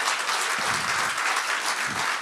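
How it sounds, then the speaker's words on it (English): Audience applause at a Techstars startup demo day in Tulsa, dense sustained clapping from a crowd that fills the room evenly and stays steady throughout. "Please give yourselves a round of applause."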